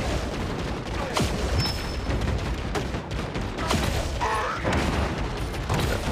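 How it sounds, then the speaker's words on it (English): Grenades bursting in the shooter game Evolution 2: Battle for Utopia, a string of dense explosive thumps and crackling booms amid steady gunfire and clatter, loud and close throughout. "these grenades are not helping me at all"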